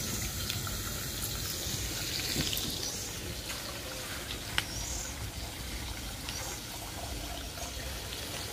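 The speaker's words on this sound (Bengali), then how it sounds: "ঢাকনাটা তুইলা মুগ ডালটা একটু ধুইয়া নেব।" Moong dal is rinsed under a running tap, giving a continuous close splash of water with faint clinks and no talking.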